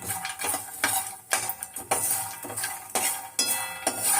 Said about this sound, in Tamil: சிம்மில் வச்சு அப்படியே வறுக்கணுமா.